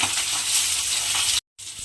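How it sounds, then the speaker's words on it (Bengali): Rohu fish pieces frying in hot oil until reddish, a dense, loud steady sizzle that cuts off abruptly for a moment before resuming. "মাছগুলো তেলের মধ্যে দিয়ে প্রথমে আমাকে একটু লাল করে মাছগুলোকে ভেজে নিতে হবে।"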